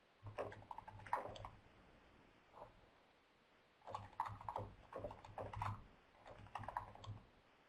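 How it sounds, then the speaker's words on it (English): Quiet typing on a computer keyboard during an online research webinar, with bursts of rapid key clicks separated by pauses, faint and close. "So Sarah, I'm typing, but I think I'm just going to speak because it's probably faster"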